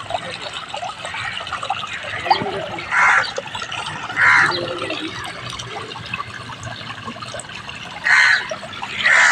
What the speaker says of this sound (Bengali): এই পুকুরের জল সব ওই পুকুর চলে যাবে।